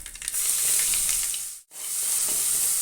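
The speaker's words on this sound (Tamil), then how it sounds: "நல்லா பொரியட்டும்." Crushed cinnamon, cloves and cardamom sizzle steadily in hot oil with a bright, dense hiss; the sound cuts out briefly partway through, then resumes just as loud.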